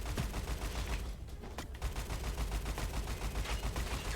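Rapid gunfire from a video game keeps going in dense, steady bursts for the whole stretch, loud and close, with no voices.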